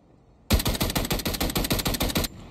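Brazilian army rifle in Call of Duty Mobile firing in automatic, one sharp burst of about a dozen rapid evenly spaced shots, loud and close, ending abruptly.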